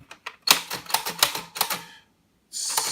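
A MARX 300 toy typewriter is typed on, a quick run of sharp, close mechanical key strikes, a brief silence, then a sustained rattling burst that sounds like the carriage moving.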